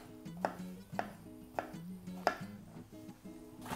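Carrots rasped against a kitchen grater while a quinoa salad is prepared, giving four or five evenly spaced scraping strokes over a steady tonal background, with no talking.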